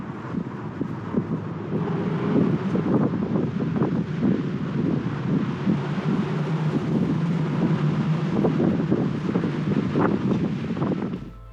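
Strong wind gusting through the carved rock walls of Spooky Canyon near Hoover Dam, a continuous low rushing roar with heavy buffeting on the microphone and no voices.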